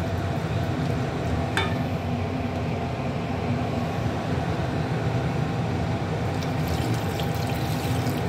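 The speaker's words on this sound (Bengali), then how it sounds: "এবার আমি অল্প একটু জল দিয়ে দেবো ডাঁটাগুলো শুধু সেদ্ধ হওয়ার জন্য।" Water is poured into a pan of simmering vegetable curry with drumsticks, a steady continuous splash and bubbling hiss heard close up with no talking.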